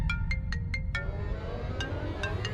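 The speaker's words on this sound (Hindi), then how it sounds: "कोई जरूरत नहीं फोन उठाने की।" A phone rings indoors with a regular series of short electronic tones, several evenly spaced bursts, a brief gap, then more, fairly clear over a low background hum.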